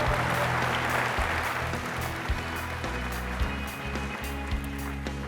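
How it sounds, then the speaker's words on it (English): A keynote audience gives a sustained round of applause for a guest, a broad steady wash of clapping that tapers slightly, with a low music bed humming underneath. "Let's give Jerome a round of applause"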